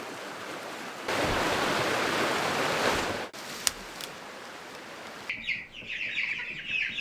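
Broad rushing noise, then Rocky Mountain chickens clucking and chattering nearby, the bird calls growing busier and louder toward the end.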